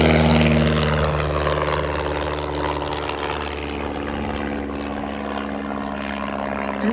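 A de Havilland DHC-1 Chipmunk flying aerobatics, its propeller engine droning loudly and steadily throughout, with a slight swell at the start as it passes fairly close.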